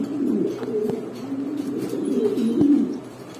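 A racing homing pigeon coos close by, low throaty murmurs rolling on in a continuous run with a few sharp clicks and rustles.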